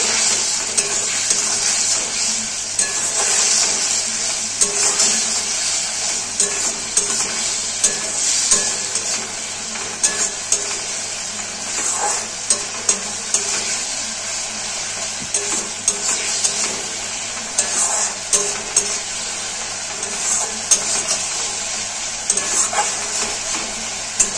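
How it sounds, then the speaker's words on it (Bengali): Poppy seed paste with a little turmeric and salt is stir-fried in a pan for Bengali aloo posto, giving a steady close sizzle with frequent scraping stirs and small knocks throughout. "পোস্তটাকে ভালো করে কষিয়ে নেব।"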